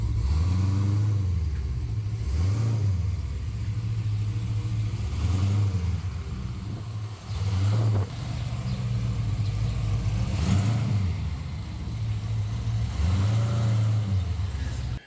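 A 1971 Chevy convertible engine idling and revving in repeated surges as it pulls slowly into a garage, a loud, close, throaty rumble with faint talk in the background.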